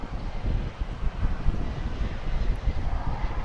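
A Delta airliner taking off at DFW airport makes a broad, rumbling roar with wind buffeting the microphone, steady and moderately loud from a distance.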